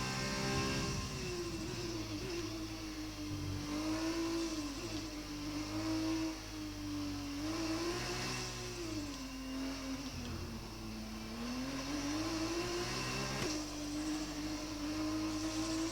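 A Formula 1 car's engine on a lap in the racing game F1 2020 gives a steady, high whine that rises and falls in pitch as it accelerates and shifts through corners.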